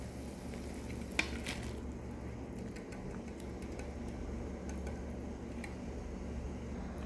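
Tofu simmering in a pan for mapo tofu, a faint, steady bubbling sizzle with a low background hum and a few light clicks of utensils.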